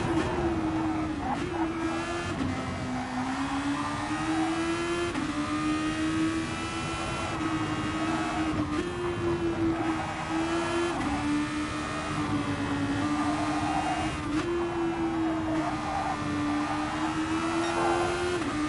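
Super Formula race car engine screaming through an onboard lap of Suzuka in GT Sport, a steady loud high-revving whine rising and dipping with gear changes and corners, continuous throughout with no talk.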